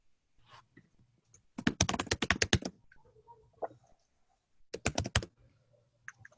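Two quick bursts of rapid keyboard typing, clicking close and crisp, separated by a short pause of near silence with faint background noise.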